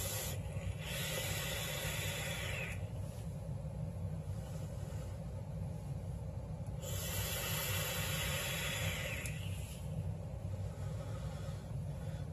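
Someone draws on an e-cigarette vape and exhales in two long breathy hisses, each a few seconds, close and soft against a steady low background with no talking.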